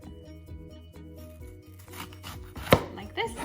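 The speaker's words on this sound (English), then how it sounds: "So the first step I always do is cut the onion in half" A chef's knife slices an onion in half on a cutting board, giving a short series of soft cuts and scrapes that end in one sharp knock of the blade against the board, heard close up.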